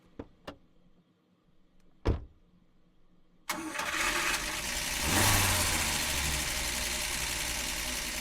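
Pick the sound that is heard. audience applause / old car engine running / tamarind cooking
old car engine running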